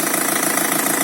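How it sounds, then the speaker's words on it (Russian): A BMW M47 two-litre diesel engine, freshly repaired, runs steadily at close range with a dense, even clatter. "Вот запустили автомобиль BMW M47,"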